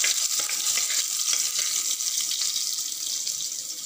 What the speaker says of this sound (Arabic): هنا التومة هي في الزيت حتى ما تاخد لون